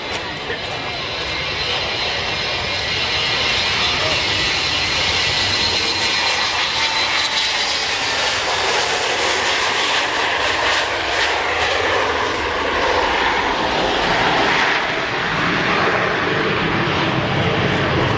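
A Boeing 727-200 jet airliner takes off at Farnborough Airshow with a loud, sustained roar that builds and holds, as a commentator talks over the engine noise.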